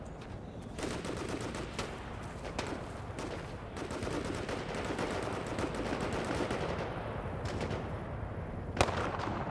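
Mortar and gunfire in the Vietnam war shooter Hell Let Loose Vietnam: a steady din of distant shots and booms with repeated sharp reports and one louder blast near the end.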